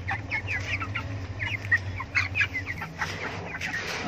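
Chickens clucking while eating feed mixed with yeast: a steady stream of close, overlapping clucks and soft chirps over a low background hum, with no voices.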